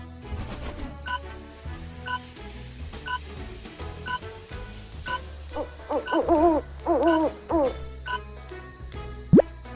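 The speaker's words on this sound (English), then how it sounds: "The owl guided Sammy to a wizard's cottage." Owl hooting in a fairy-tale setting, a few soft repeated hoots set against an ongoing musical backdrop, fairly quiet and steady, with no voices.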